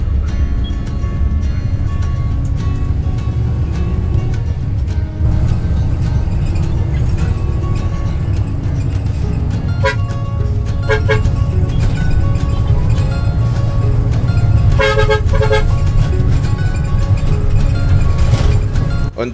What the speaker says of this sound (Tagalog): kumaliwa ang bus dahil papunta na tayo sa endpoint ng ating biyahe